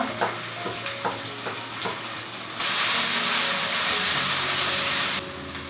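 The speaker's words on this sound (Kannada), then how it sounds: "ಇವಾಗ ಕರಿಬೇವು ಹಾಕ್ತಾ ಇದ್ದೀನಿ." Curry leaves drop into hot oil, erupting into a loud, crackling sizzle that lasts a few seconds before cutting back, preceded by quieter frying and a few clinks of stirring.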